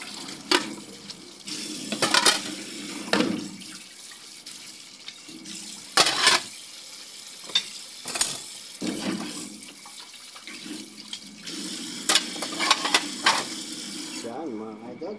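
Running tap water splashes over plates and cups being washed by hand, with repeated bursts of clattering and rinsing that come and go close to the mic.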